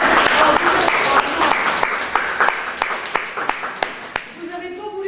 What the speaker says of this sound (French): nous pourrions décider de clore cette séance en vous applaudissant